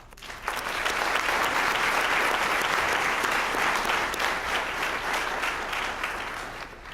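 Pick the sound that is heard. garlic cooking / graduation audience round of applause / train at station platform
graduation audience round of applause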